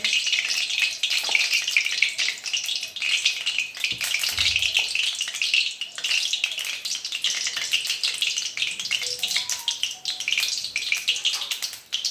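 Ridge gourd bhaji dropped one by one into hot oil, frying with a steady, close, bright sizzle and crackle throughout, with a brief low knock partway through.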